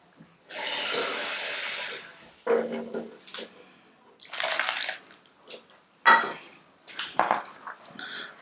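Water is poured into flour batter seasoned with sazon and black pepper for Puerto Rican bacalaitos, heard as several separate splashing pours, close and alone.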